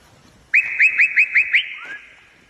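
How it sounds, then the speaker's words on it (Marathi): Long-beaked birds at a village lake give a loud, close series of about six rapid rising whistled calls, followed by a softer downslurred note, with quiet background. "केवढ्या लंब्या लंब्या चोचीचे पक्षी आहे आणि ते तिथे शिकार करून राहिले पा."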